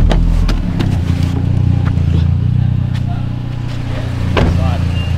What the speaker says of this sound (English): Car's about to stall out.